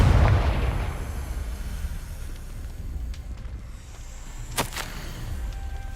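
A Confringo fire spell blasts off in Hogwarts Legacy, a loud burst that decays into a rumbling tail, followed by a sharp crack and lighter magical whooshes, with no talking.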